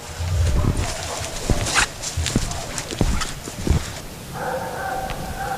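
A hound bays in repeated drawn-out howls from some distance outdoors, with rustling and footsteps nearby and a brief tonal whine toward the end.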